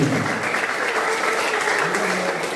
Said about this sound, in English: big round of applause for a girl who made the regional team